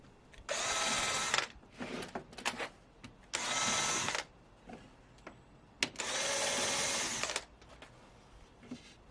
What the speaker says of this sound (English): I drill short pilot holes in the case and through into the panels